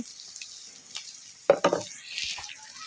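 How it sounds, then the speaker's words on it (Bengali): Chili paste frying in a pan, a soft steady sizzle with a few quick stirring scrapes in the middle, close by and fairly quiet. "আমি কিন্তু দুই মিনিট ভেজে নিয়েছি আমাদের মরিচ পেস্ট"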